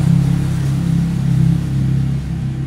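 Motorbike engine in Jaipur, a loud, close, continuous mid-pitched drone that swells and dips as it revs, with no voices.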